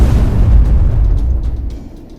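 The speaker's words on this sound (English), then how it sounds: "A massive explosion reduces the vehicle to rubble." An armored personnel carrier's ammunition detonates after an FPV drone strike, producing a massive, loud, close explosion whose deep rumbling boom dominates and then slowly rolls off over about two seconds.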